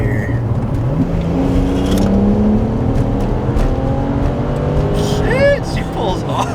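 A BMW 335i with a DCT gearbox and its ABS and traction warning lights on accelerates hard, a loud, steady engine drone rising in pitch close by, ending with a brief shift or lift near the end.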